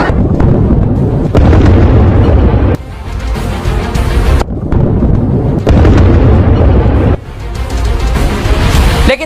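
Repeated loud, heavy blasts and rumbling booms in Lebanon, forming dense broadband bursts with brief drops between them, heard as raw news footage without voices.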